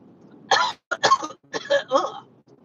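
A person coughs and clears their throat in a few short, rough bursts, close and fairly loud, with brief pauses between them.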